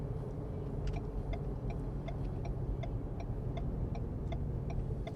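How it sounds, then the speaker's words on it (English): Turn signal blinker of a Ford Bronco Sport ticking at a steady, even pace inside the cabin, faint clicks over a constant low engine and road rumble. "Now you'll notice when you put your turn blinker on,"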